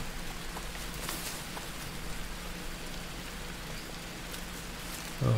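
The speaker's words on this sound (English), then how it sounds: "Oh man, this rain's washed me off so nice." Steady rain falls in the survival video game Green Hell, a continuous hiss of drops on surfaces heard alone and evenly throughout.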